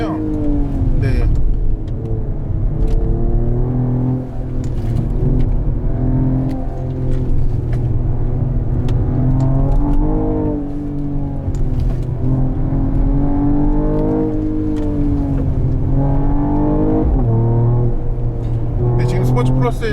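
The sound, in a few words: Mercedes-AMG GT43 4Matic Plus accelerating in Sport Plus mode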